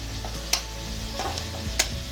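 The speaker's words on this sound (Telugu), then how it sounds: "బాండీలో ఎర్రగడ్డలు పచ్చిమిరపకాయలు కరేపాకు వేసుకొని" Onions, green chillies and curry leaves fry quietly in a little oil in a pan. A soft sizzle runs under two sharp utensil clicks and light stirring.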